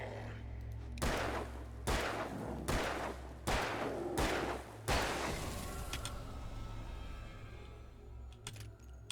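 Five evenly spaced heavy gunshots ring out in the game Alan Wake, each loud crack trailing into a long echo, then fading into quiet ambient hum with a few faint clicks.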